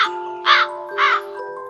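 Two loud crow caws, about half a second apart, ring out over a steady high tinkling tone, a bird sound effect in a children's Hansel and Gretel fairy tale.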